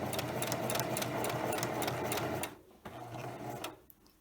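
A sewing machine stitching fabric at a 45-degree angle while making a hair tie, running in a steady rapid mechanical chatter for a couple of seconds, then pausing and briefly restarting before stopping, close and loud.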